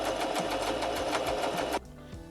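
A sewing machine stitches fabric for a reversible face mask in a fast, steady rapid-fire whir, close and clear, then abruptly stops, leaving faint handling noises.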